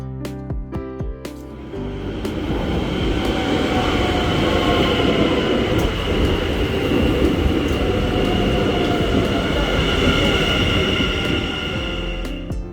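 Passenger train heading to Amsterdam Central station, heard from inside the carriage as a loud, steady rumble of wheels on track that builds after a short start and holds throughout.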